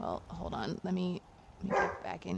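A pet dog barks indoors in short bursts, a few sharp woofs close to the microphone, mixed in with someone speaking.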